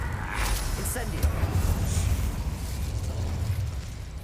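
An Incendio fire spell bursts in Hogwarts Legacy with a whooshing, crackling blast that stays loud and dense for several seconds, and a voice talks over it.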